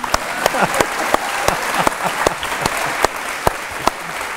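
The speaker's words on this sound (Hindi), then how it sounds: "ताली बजाइए भाई" Studio audience applause on a television interview show, a lively, close round of clapping with sharp individual claps standing out over the crowd throughout.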